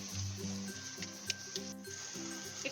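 Tomato paste sautés in a pan for an egg biryani, making a steady, close hissing sizzle that runs without a break alongside faint tonal background sound.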